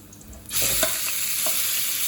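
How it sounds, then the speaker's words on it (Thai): Pork tossed into a hot pan of golden fried garlic, breaking into a loud, steady sizzle with a few scraping stirs, close and alone with no talk. "ใส่หมูลงไปผัดเลยจ้า"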